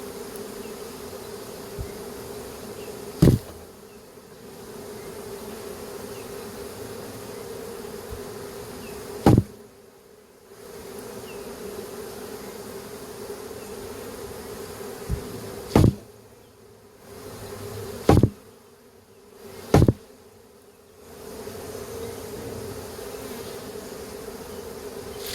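A swarm of honey bees being shaken off a branch during a hive transfer, producing a steady dense buzzing drone throughout, close and continuous, broken by several sharp knocks or thumps from the shaking.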